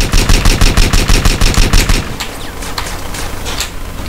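Rapid automatic gunfire in the GTA San Andreas video game, a loud steady burst of repeated shots for about two seconds, then quieter scattered shots and game noise.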